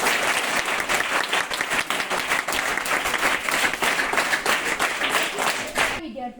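Dense clapping from a crowd at an ashram school gift distribution event, loud and continuous with uneven swells, stopping abruptly just before the end.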